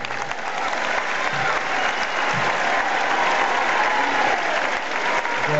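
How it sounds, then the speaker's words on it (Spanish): An audience at an Argentine stage show claps loudly and steadily to welcome a performer, a dense, sustained wash of applause with no talking. "pido un fuerte aplauso"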